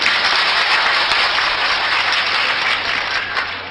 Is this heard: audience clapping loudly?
yes